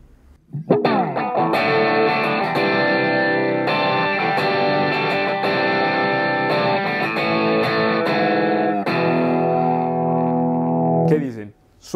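Electric guitar played through the Plexi amp model of a Line 6 Spider V 60 gives a crunchy, saturated overdriven tone. It plays a steady chord-driven riff for roughly eleven seconds, loud and close, with no talking over it.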